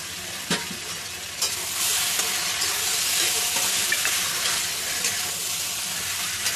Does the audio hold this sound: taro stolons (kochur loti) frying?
yes